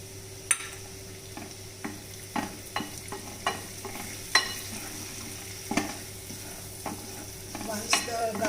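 Garlic and curry leaves sautéing in hot oil while being stirred, a steady soft sizzle broken by frequent light scraping taps of the spoon against the pan, close and fairly quiet.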